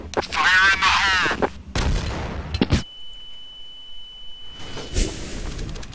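Counter-Strike: Source match where machine pistols like the TMP and MAC-10 are in play: a burst of gunfire and loud game impacts up front, then a quieter stretch with a thin tone and another sharp shot near the end.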